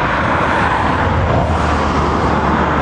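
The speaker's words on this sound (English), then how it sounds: "Sorry about the traffic." Steady roar of passing vehicles on a relatively busy country road beside dairy pastures, a loud continuous wash of traffic noise with no pauses or voices throughout.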